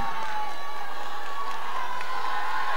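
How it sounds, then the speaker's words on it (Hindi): A crowd at a dance competition grand finale cheering and applauding, a dense roar of many voices with shouting and clapping that stays steady and moderately loud throughout. "Give a huge round of a thundering applause."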